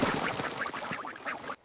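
Farm ducks quacking loudly and repeatedly in a close, busy flurry of overlapping calls that stops abruptly.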